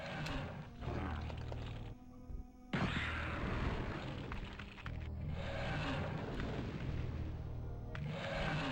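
Heavy gunshots blast repeatedly while enemies are shot in the Nightmare Creatures game on the N64, several loud booming bursts with short gaps and a low rumbling bed between them.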